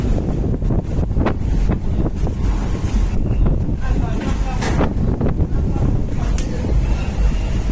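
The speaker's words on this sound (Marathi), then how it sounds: "हवा चाली जबरदस्त" Strong wind buffets the microphone at Juhu beach during rain, a steady loud roar of gusts and rumble with possible surf underneath, continuous throughout.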